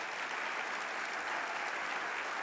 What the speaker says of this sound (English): I was going to ask the staff to stand up and for you all to applaud